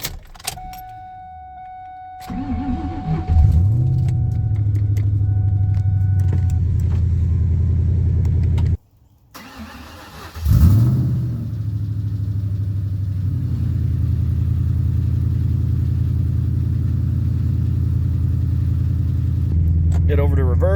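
A 2003 SVT Mustang Cobra engine cranks and catches into a deep, loud idle, cuts out abruptly, then restarts and settles into a steady rumbling idle as the car barely creeps, with a voice speaking over it.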